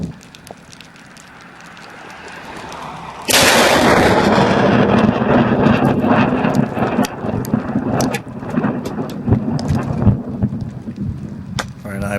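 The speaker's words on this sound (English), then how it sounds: "you will hear the background noise of the lightning in a moment" A lightning strike on a storm chaser, replayed from news footage: low rumbling builds, then a sudden loud crack bursts into sustained roaring thunder with crackling, rain-like noise and scattered sharp pops continuing to the end.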